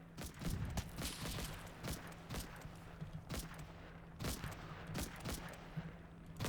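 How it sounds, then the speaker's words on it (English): .30 caliber machine guns rattle in the Normandy battlefield of Combat Mission: Battle for Normandy, with repeated short bursts and scattered shots sounding faint and somewhat distant in an irregular rhythm. "I only hear the sounds of our 30 caliber machine guns"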